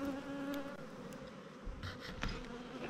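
Honeybee colony buzzing during a spring hive inspection, a steady, close, moderately loud drone of many bees with passing individual flights.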